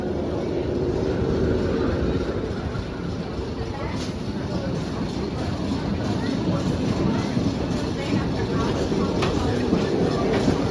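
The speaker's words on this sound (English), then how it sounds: "here comes my train for the station" A roller coaster train rolling into the station at Dorney Park during a Halloween haunt event, a steady dense rumble with faint clicking, loud and continuous for the whole stretch.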